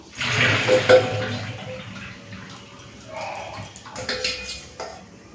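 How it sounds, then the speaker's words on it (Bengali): Raw plantain is drained out of water in a home kitchen, with a short splash and pour of water followed by softer trickles and light clinks of a utensil. "এদিকে কাঁচকলাটা জল থেকে ছেঁকে নিই"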